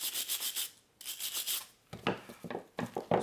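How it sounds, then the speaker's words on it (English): A wire brush scrubs the brake pad spring seat on a Honda CR-V front brake during a pad and rotor change, giving close, raspy back-and-forth strokes in quick rhythmic bursts with short pauses between sets. "we're just going to use a wire brush to clean this up."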